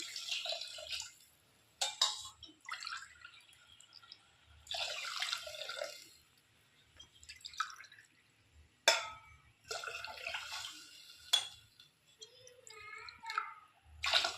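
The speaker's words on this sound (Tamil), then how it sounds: "நான் வந்து இந்த டம்ளரில் 3 டம்ளர் தண்ணி ஊற்றிக்கிறேன்" Water splashes and trickles in several short bursts into a tumbler, close by, with brief pauses between pours and faint clinks.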